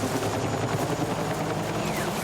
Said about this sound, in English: A fucking helicopter.